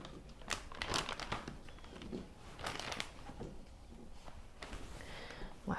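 Pieces of chicken and bell peppers are dropped into plastic bags, producing close, quiet plastic crinkling and rustling in short bursts with brief pauses between them.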